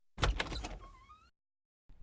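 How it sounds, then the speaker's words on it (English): A bar door swings open in an audio drama with a rattling, scraping burst followed by a rising creak that fades to silence, then a faint soft sound begins. "And then the door to the bar opened."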